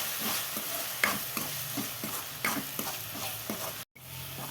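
Pav bhaji vegetables sizzle and fry in a pan as they are browned, with regular clacks and scrapes of a spoon stirring. The sizzle runs throughout, with one short drop to silence near the end.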